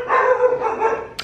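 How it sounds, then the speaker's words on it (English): Dogs barking outside on a rainy day, a close, loud burst of rapid barks and yips running together over about a second, followed by a brief sharp noise. "Dogs are barking."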